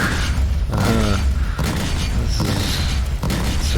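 Spaceship weapons firing in Star Citizen, loud repeated thumping blasts in rapid rhythm, with mechanical whines between volleys.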